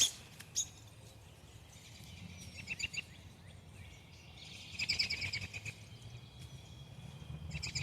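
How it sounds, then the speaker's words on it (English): Sharp, high chirps and squeaky calls from two robins fighting come in scattered bursts over faint outdoor background, a flurry of excited twittering. "There were two robins fighting."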